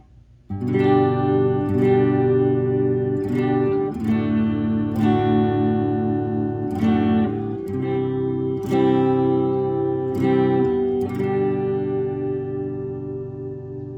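An electric guitar on the front pickup, likely an Epiphone or Gibson Les Paul, plays a series of sustained, warm chords with a slight effect shimmer, each strum ringing out clearly with no talking.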